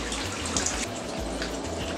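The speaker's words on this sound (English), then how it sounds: "the most important thing we have to do is wash our hands with soap" A tap runs steadily into a sink as hands are washed with soap, a faint continuous splash with no talking.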